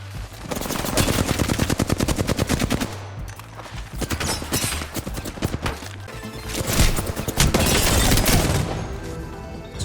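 Rapid automatic gunfire from Apex Legends rattles in long loud bursts with short pauses between them, dense and close, with no talking.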